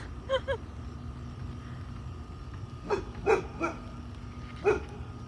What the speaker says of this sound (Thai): หมาบ้านหลังนวนเห่าหรอจ้ะ